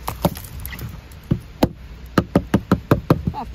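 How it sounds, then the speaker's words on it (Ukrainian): Knuckles rap on an iced-over car to loosen the ice, a series of dull, close knocks that come sparse at first and then in a quicker, steadier run. "Надіюся, що в мене ці вітровики не відпадуть, від того, що я стукаю."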